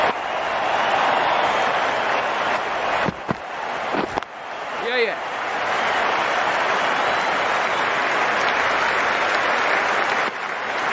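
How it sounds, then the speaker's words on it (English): A cricket stadium crowd at an India versus New Zealand match cheers and applauds loudly and continuously, a dense roar with a commentator's voice briefly over it. "The crowd on their feet."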